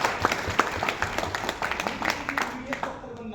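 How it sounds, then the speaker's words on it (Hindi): A smaller indoor audience gives a round of applause for a guest, with distinct individual claps audible within the clapping, which continues fairly evenly before easing off near the end. "सर के लिए एक बार तालियां मन से।"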